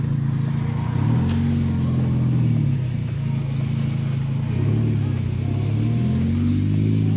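A car engine revs hard toward redline, loud and close, pitch climbing and falling in repeated surges over several seconds as it pulls away.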